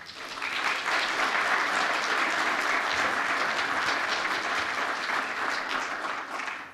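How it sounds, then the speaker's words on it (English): An indoor audience applauds speaker Mark Mitchell at a talk, dense sustained clapping swelling in quickly, holding steady for several seconds, then tapering. "please, a warm round of applause for Mark Mitchell"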